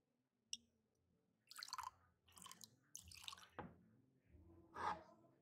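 A drink poured into a glass in the video game Life Is Strange: True Colors, with short bursts of liquid splashing and trickling, a clink and a few separate pours against a quiet background.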